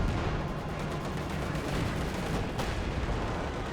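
Two T-34 style tank guns firing in a Company of Heroes battle, with dense rumbling gunfire and blasts layered over continuous combat noise, loud and sustained with a sharper shot near the end.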